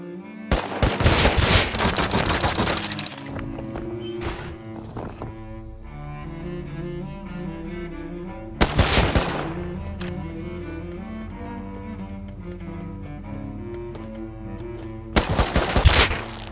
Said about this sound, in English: He's spraying bullets into my body.